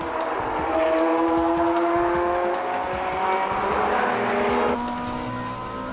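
Sports cars, including a Ferrari 360 and an NSX-R, racing bumper to bumper on a final lap, a steady loud engine drone with sustained whining tones that shift pitch as the cars pass.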